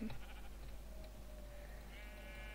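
A Minecraft sheep bleats briefly at the start over a steady synthetic hum, followed by a few soft tonal game-like effects.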